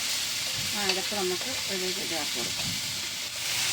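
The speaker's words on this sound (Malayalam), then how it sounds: "കറിവേപ്പില നമ്മൾ നല്ല രീതിയിൽ ഒന്ന് ഇളക്കി" Curry leaves crackle and sizzle in a hot pan as they are stirred, and the frying hiss stays loud and continuous. A voice is briefly heard under it partway through.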